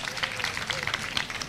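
Brief, light applause from an audience at a mass blood donation drive, honouring the Red Cross team with scattered, moderately distant clapping over a faint crowd murmur.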